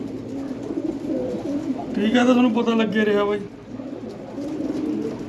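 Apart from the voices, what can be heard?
pigeons cooing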